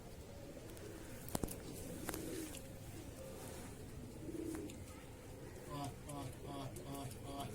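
Pigeons coo in soft repeated bursts near a house, faint and low under someone talking steadily, with a couple of sharp knocks early on.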